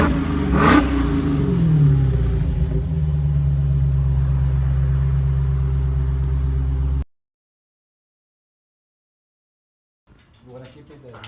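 A Dodge Challenger SRT 392 with a 6-speed manual, still on its mid mufflers, revs sharply once, then settles into a loud, steady, close idle rumble before cutting off abruptly, leaving silence and then faint voices.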